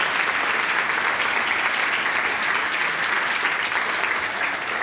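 Audience at a Python conference gives a speaker a dense, sustained round of applause, a loud even wash of many hands clapping with no talk over it.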